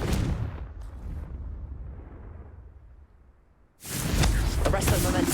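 A Confringo fire spell blasts in the video game Hogwarts Legacy. After a quieter, fading stretch, one loud, heavy burst hits abruptly and rumbles on.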